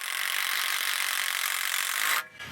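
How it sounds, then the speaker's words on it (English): A square-drive screw is driven through a countersunk hole into an aluminum extrusion bracket. A close, steady power-driver whir runs for about two seconds, then cuts off abruptly. "So I just need to screw those into the extrusion right there."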